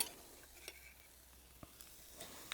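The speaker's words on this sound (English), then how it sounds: "you can hear the sizzle as we go on" Soft, steady sizzle of burger patties frying on a hot grill, with a few faint clicks and scrapes, no voices.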